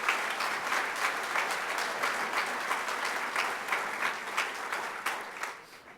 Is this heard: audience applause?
yes